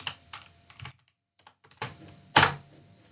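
Computer keyboard typing during RStudio work, a few scattered keystrokes and short bursts with a pause in the middle and a louder clack near the end, close and fairly quiet, no talking.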